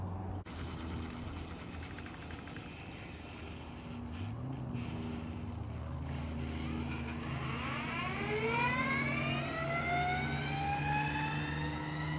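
An Onsra Black Carve electric skateboard accelerates, its motor whine climbing steadily in pitch over a steady hum of rolling noise. The sound swells in the final seconds, close and fairly loud, with no one speaking.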